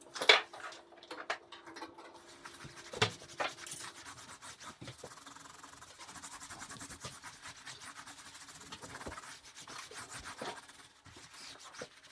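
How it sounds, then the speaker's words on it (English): Hands rub the seams of a large wet-felted wool light shade, a soft, steady scrubbing and rasping texture that stays faint and close throughout, with a few sharper scuffs near the start and no talking. "I then turned the piece on its side and rubbed the seams till they were no longer visible."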